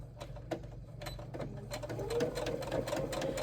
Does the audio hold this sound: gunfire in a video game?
no